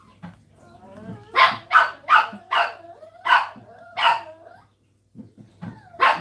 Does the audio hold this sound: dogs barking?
yes